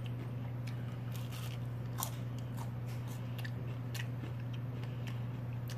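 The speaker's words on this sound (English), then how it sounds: "Sorry for the eating sounds, but I'm eating." Crunchy confetti donut crispy rice treat is being chewed close to the mic, with soft repeated crunches and bites over a steady low background hum.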